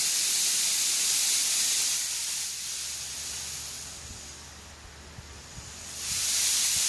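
A Paint Zoom paint sprayer blowing air gives a loud, steady hiss that dips in level partway through and then surges back up near the end, heard alone and close by.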